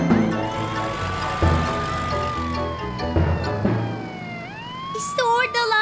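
A cartoon police car siren wails in a children's animated show, with rising and falling tones over busy background music, loud and continuous, and a voice cuts in near the end.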